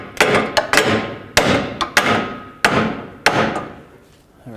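A rubber mallet strikes a stuck CV axle on a Ford Focus in a series of sharp, close thuds, some in quick pairs, with a short ring after each blow and no talking.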